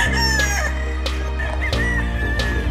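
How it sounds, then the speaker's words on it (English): Gamefowl roosters at a Philippine gamefarm crow loudly and close, several overlapping cock-a-doodle-doo calls with clucking, over a steady low background hum. "These are the chickens"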